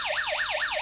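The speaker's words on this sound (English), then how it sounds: "the electricity goes through, so the speaker alarms?" A small speaker in a kids' electronics circuit sounds an alarm when two wires touch, giving a loud, fast, rising-and-falling electronic warble repeating several times.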